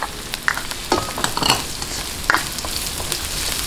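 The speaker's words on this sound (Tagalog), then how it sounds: "At medyo bisagisahin po natin hanggang sa lumabas yung amoy po ng luya." Ginger sautéing in a hot pan for chicken pininyahang manok, a steady close sizzle broken by several sharp scraping stirs of a spatula against the pan.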